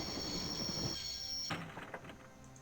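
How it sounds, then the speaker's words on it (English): A train in the video game Broken Sword rumbles steadily with a sustained high metal squeal, then the squeal cuts off and a few clanks and knocks follow. "I'd always wanted to stop a train, and now was my chance."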